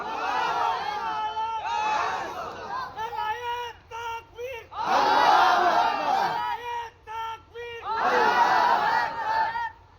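Large religious gathering in Rajshahi chanting Allahu Akbar in unison, three loud collective roars in rhythm separated by brief pauses and a lone leading voice.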